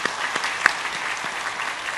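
A church congregation at Sunday worship applauds a newcomer, a soft, even patter of many hands sounding somewhat distant, with one sharper clap standing out.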